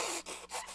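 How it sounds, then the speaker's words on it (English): A person blows their nose up close in three quick, forceful nasal bursts separated by short pauses. "I'm blowing my nose."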